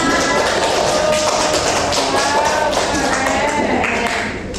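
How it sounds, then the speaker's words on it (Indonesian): Students in a classroom clap their hands together in a dense, steady patter of close claps for several seconds, with a voice audible over the clapping. "Tepuk tangan dulu buat kita semua."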